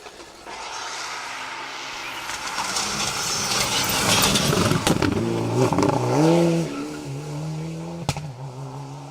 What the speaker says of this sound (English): Car 79, that's Gary Rogers in the Mitsubishi Evo 9, flying well over the jump